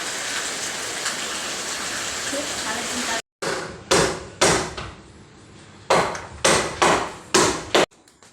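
Carpenters hammer while fitting a new ceiling in a house during steady rain; steady rain hiss fills the first few seconds, then about seven sharp, ringing hammer blows land at irregular intervals, close and loud.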